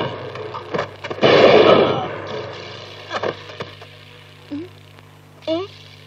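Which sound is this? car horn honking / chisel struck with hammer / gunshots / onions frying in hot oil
gunshots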